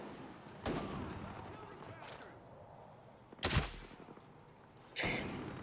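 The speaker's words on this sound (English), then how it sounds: "that mortar shook my screen when it fired" A mortar fires in the Ghost Recon Breakpoint video game: a deep booming launch stands out among several sharp gunfire bursts, with game dialogue running faintly underneath.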